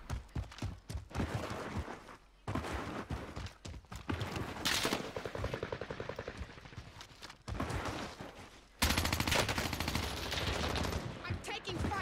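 Rapid bursts of gunfire from a Warzone match, likely the VARGO 52 rifle, crackle in dense repeated volleys with brief gaps, loud and close throughout, with occasional voice under the shots.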